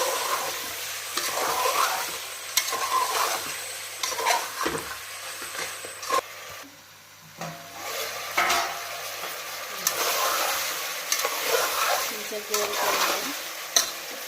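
Telangana-style talakaya curry sizzles in a pan while it is stirred, frying hiss under repeated close scraping and clacking strokes, with a short quieter pause midway.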